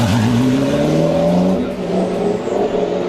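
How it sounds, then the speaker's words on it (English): A McLaren supercar leaves the pit lane at Spa-Francorchamps during a 2013 Supercar Challenge race, its engine droning loudly with a falling then steady pitch as it pulls away, over background track noise. "Now it's up to Glyn Geddy as he heads out of the pit lane."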